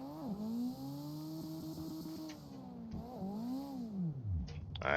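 A car engine in CarX Drift Online revs high through several gear shifts, dipping and climbing again, then dropping low toward the end.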